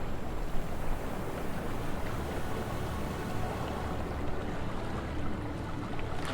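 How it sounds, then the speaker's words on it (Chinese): Sea waves wash steadily around a ship in the Lemaire Channel, Antarctica, its engine switched off, forming a continuous broadband rush with some wind buffeting and no clear individual breakers. "你听到的所有声音就是海浪声"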